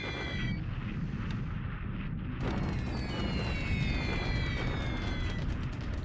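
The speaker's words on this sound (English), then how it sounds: "this is a little bit boring here with all the bombing going on" Bombing raids in a World War II strategy video game set at Rangoon produce a continuous rumbling barrage of explosions, with deep booms and crackling bursts rolling one after another, loud and unbroken.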